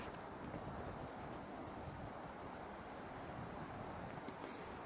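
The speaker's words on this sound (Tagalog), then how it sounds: "Mahangin pa na malakas." Strong, cold mountain wind rushes steadily against the microphone outdoors, a dense continuous roar with no talking.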